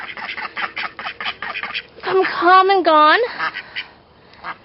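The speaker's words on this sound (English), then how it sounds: "here we are at the ducks" Backyard homestead ducks quacking loudly up close, a burst of several nasal quacks following a man's speech, with softer chatter from the flock around it.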